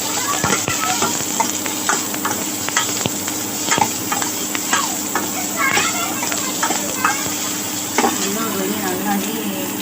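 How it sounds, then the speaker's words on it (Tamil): Dried red chillies frying in a pan, with a steady sizzle and hiss and scattered clicks and scrapes as they are stirred. "இப்போ வந்து நம்ம இந்த 5 வரமிளகாய் போட்டுக்கலாம்"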